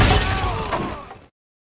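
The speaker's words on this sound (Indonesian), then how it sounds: "Ledakan terjadi sesuai perhitungan." A planted explosive device detonates as one loud, close, broadband blast that decays over about a second and then cuts to silence.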